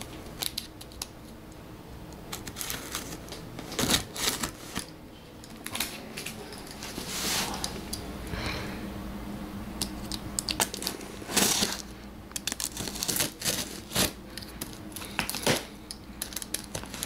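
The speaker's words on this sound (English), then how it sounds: "So back to our trusty knife. And let's open this thing already." A knife slicing open a cardboard box that holds a 48-inch Nova Extreme light fixture, with repeated scraping and cutting strokes and sharp crackles near the camera, alone and without talk.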